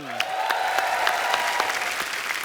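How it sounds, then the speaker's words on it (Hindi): Steady, enthusiastic applause from a studio audience on a comedy talk show, continuous clapping throughout with no pauses. "इनके लिए भी जोरदार तालियां।"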